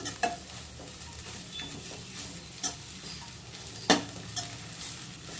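Eggplant curry with chili fries in a pan, a moderate steady sizzle under several sharp clinks and scrapes of a spoon stirring against metal.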